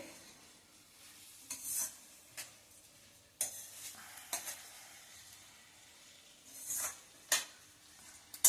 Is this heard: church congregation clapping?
no